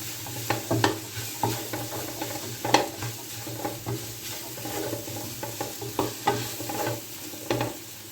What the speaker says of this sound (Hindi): इसको मिक्स बहुत अच्छे तरीके से करना है।